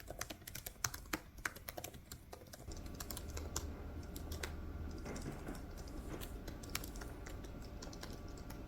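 Steady typing on a computer keyboard while writing an epic fantasy novel, a dense run of close, crisp keystrokes, sparse and sharper at first, then continuous over a low background hum.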